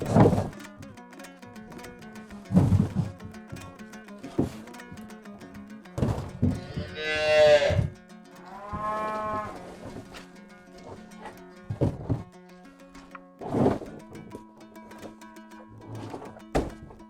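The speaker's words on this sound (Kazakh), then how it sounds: "Біздегі бұзаулар бұл мамасын ембеген бұзаулар." Young calves on a farm moo in a few loud, drawn-out calls amid scattered thumps and shuffling of livestock feeding nearby.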